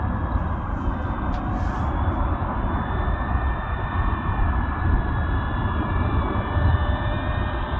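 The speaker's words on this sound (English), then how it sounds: "the planes are going overhead all the time when I'm in this park" Airplanes pass overhead above a park as a continuous, even roar that fills the whole stretch without fading. No voices are heard.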